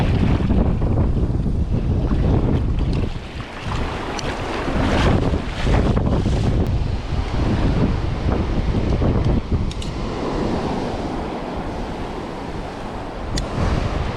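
Strong wind roars steadily on a winter shore during cod fishing in Northumberland, loud buffeting gusts blasting the microphone over the sound of surf.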